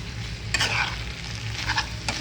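Banana flower curry (mochar ghonto) with ghee and garam masala sizzles steadily in a pan, with a couple of brief stirring scrapes over the constant close frying hiss.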